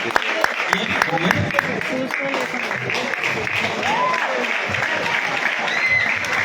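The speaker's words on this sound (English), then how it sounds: "give a clap to the Andhra Pradesh girls" Applause at a prize distribution ceremony for a national throwball championship, a steady crowd clapping at moderate distance, with voices talking over it.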